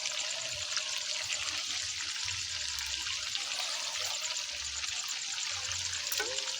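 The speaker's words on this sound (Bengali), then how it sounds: "এবার গরম জলটা দেব।" Hot water is poured into a frying meat curry after the oil has separated, giving a continuous rushing, bubbling hiss that stays steady and fairly close throughout.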